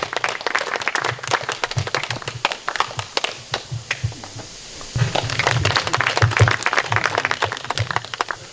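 An indoor forum audience claps at a speaker's introduction, with dense, moderately loud, continuous applause that dips briefly midway before swelling again.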